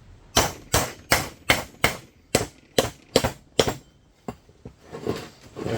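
Steel hammer blows on a socket driving a rear wheel bearing home on a VW Polo 86c, about ten loud, sharp metallic strikes in a steady rhythm, then softer scraping and taps.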